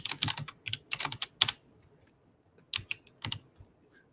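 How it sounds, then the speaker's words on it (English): Typing on a computer keyboard, two quick bursts of close, crisp key clicks separated by a short pause, with no talking. "I hate typing."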